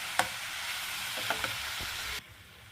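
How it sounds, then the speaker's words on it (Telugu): Mashed potato, soaked peas and ground pea powder being stirred together in a pot for pani puri filling, with a soft sizzling hiss and a few scattered spoon scrapes, near, before the sound drops away abruptly. "మొత్తం కలుపుకుందాము ఒకసారి."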